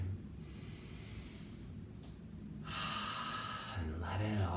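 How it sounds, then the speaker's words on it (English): A deep breath is drawn in during a guided mindfulness exercise, a long airy inhale that builds into a louder, sustained rush of air toward the end, close and soft. "Breathe one more time"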